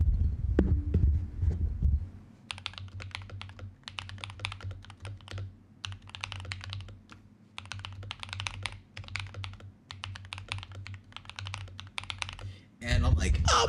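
Rapid bursts of typing on a computer keyboard, the clicks coming in quick clusters split by short pauses, close and crisp over a low steady hum, with a brief voice at the start and again at the end.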